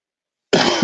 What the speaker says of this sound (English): Did not mean to cough in y'all's ear.